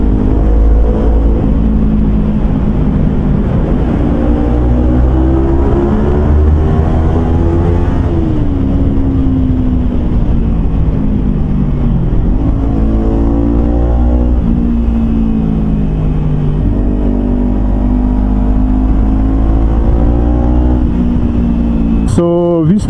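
Kawasaki Versys X Tourer 250 motorcycle with a Norifumi slip-on exhaust, loud close engine droning and repeatedly revving up and easing off, with a brief sharp clatter at the very end.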